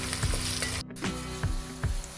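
Curry leaves and ginger sizzle steadily in hot oil for a ginger curry, a close, continuous crackle with a few louder stirring scrapes and a brief dropout near the middle.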